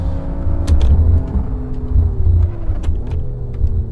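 A BMW M3 engine drones in the Assetto Corsa driving simulator on a track, a loud steady rumble with pitch rising and falling as the car accelerates and brakes, with a couple of sharp clicks.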